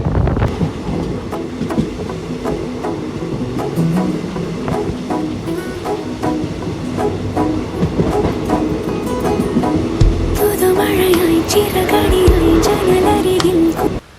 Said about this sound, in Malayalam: മേലാറ്റൂർ സ്റ്റേഷനിലേക്ക് നമ്മൾ ട്രെയിൻ എത്തി